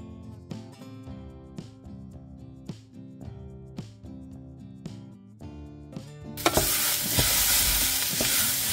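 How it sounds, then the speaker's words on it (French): Chopped onion frying in olive oil in a pan, a soft sizzle with stirring scrapes over musical tones, then a louder broad hiss rising toward the end. "je fais revenir l'oignon avec de l'huile d'olive."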